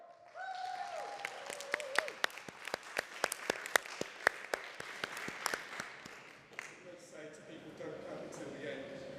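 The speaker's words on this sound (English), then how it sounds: "So remember, huge round of applause, please" Applause at the FUSION24 event welcoming a UKAEA speaker to the stage, a run of loud, evenly spaced sharp claps over crowd clapping, with talk heard at the start and again at the end.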